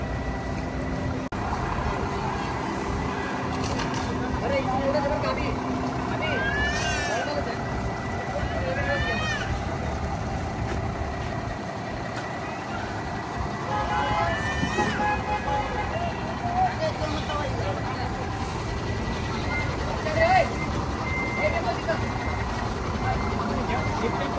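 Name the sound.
Bharat Benz vehicle started and running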